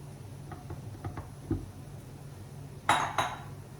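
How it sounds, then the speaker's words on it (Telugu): Utensil stirring and mixing curd rice in a dish at home, heard as a few soft scattered clinks and scrapes, then two sharper clinks of metal against the dish near the end, with a low steady hum underneath. "ఇప్పుడు రైస్లో కలిపేస్తున్నాను"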